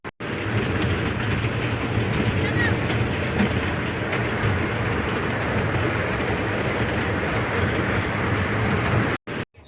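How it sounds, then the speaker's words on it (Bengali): A train at Deul station rumbles and rattles loudly and steadily for nearly the whole stretch, its wheels clattering on the rails before the sound cuts off abruptly near the end. "দেউল স্টেশন, আমরা এই ট্রেনে চেপে গেছিলাম ওই ফুলবাগান ঘুরতে।"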